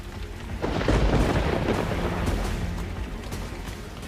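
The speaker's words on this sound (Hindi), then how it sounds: "ऊपर से मूसलाधार बारिश ने लोगों की जिंदगी पानी पानी कर दी है" Heavy monsoon downpour during flooding in Gadchiroli's Bhamragarh area, with a deep rolling thunder rumble swelling after the first half-second and slowly fading under continuous rain hiss.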